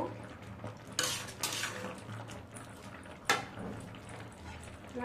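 A lid is set onto a pot of tomatoes cooking down into sauce, giving two quick metallic clanks over a quiet simmer in a home kitchen.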